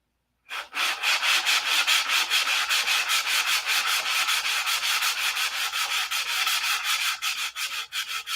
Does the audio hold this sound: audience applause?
no